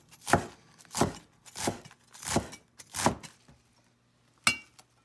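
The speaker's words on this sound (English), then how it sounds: "Okay, I'm going to chop it." A knife chops through napa cabbage leaves on a cutting board: five firm, evenly spaced strokes, then a pause and one last sharp chop, close and clear with no talking.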